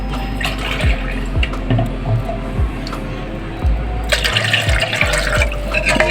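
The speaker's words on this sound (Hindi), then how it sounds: "इसमें आपने ऐड करना है 2 गिलास पानी।" Two glasses of water poured into a kadhi mixture in a pot, a steady liquid fill with a few clinks of glass against metal, close and fairly loud, with no talking.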